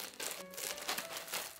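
Plastic packaging bags from a mail-order clothing parcel crinkle and rustle continuously up close, with uneven bursts of crackling through the whole stretch.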